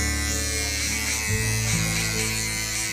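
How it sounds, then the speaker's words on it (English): A small electric hair clipper trims a man's short haircut, buzzing steadily and loudly up close for the whole stretch, its pitch shifting slightly partway through as it moves through the hair, with no talking. "To clean it better, we take usually a small nice machine."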